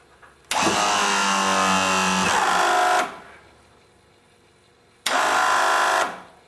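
A Meyer E-60 hydraulic pump motor, with the smaller diameter lift cylinder and pressure set around 2500 psi, runs loud and steady in two close bursts, the first about two and a half seconds long and the second shorter, with a quiet pause between.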